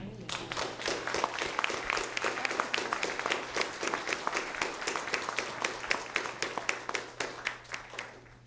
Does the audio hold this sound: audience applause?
yes